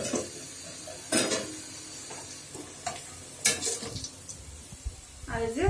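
Bay leaves, cinnamon sticks and small cardamom pods frying in oil in a pot for pulao, a soft sizzle broken by several sharp spoon scrapes and clanks against the pot.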